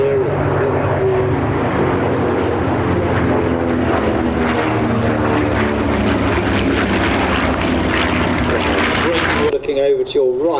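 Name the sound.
vintage propeller warbirds flying at airshow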